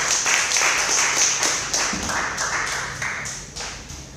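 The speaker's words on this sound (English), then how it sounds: "Big round of applause." Audience at a startup demo day event applauds with brisk, scattered clapping that stays steady and fairly close for a few seconds, with no talking.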